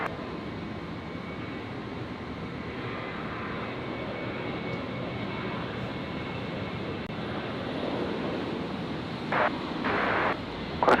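An aircraft lands at night on runway 01 left at Brisbane International Airport, a steady, moderately distant jet rumble and rushing roar that holds throughout, with a few brief louder bursts near the end.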